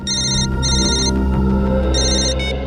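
A telephone rings with a repeating electronic ringtone, loud and close, in bursts with short gaps over a steady low hum, in a police office scene.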